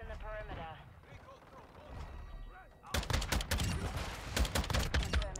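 Bursts of LMS light machine gun fire in Modern Warfare 2 start partway through, with rapid, loud shots following game voices and ambient battle noise.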